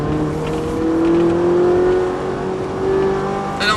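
A Ferrari 458 Italia accelerates progressively on the Montlhéry circuit, its engine note a steady, loud, rising whine heard from inside the car, with no talk.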